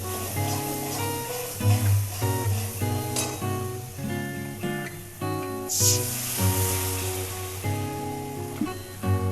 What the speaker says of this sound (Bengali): মশলাটা আমাদের কষানো হয়ে এসেছে, এবারে জল দিয়ে দেবো।